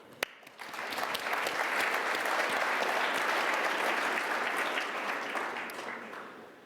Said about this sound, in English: I'd just like to say a quick round of applause to all of you who've made it possible tonight